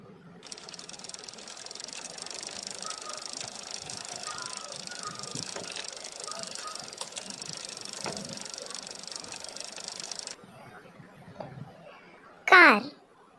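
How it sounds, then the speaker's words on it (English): A bicycle rolls along with a steady, close whirring and rattling hiss that runs for about ten seconds, stops, and is followed near the end by a short, bright ring. "Cycle,"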